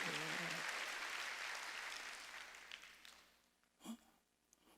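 A church congregation claps together during a Korean Sunday worship service, loud dense applause at first that thins out and fades, ending in near silence with a brief soft sound.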